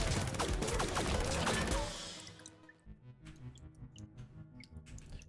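Dense rapid shooting in The Binding of Isaac with the Fiend Folio mod, a loud rattling barrage of small shots that gives way after two seconds to sparse, quieter plinks and ticks.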